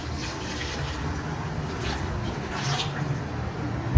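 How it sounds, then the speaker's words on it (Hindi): Boiled water is poured into a pan of frying dal, a continuous rushing splash that holds steady at moderate level, ending with a small knock. "अब हम इसमें ऐड करते हैं पानी"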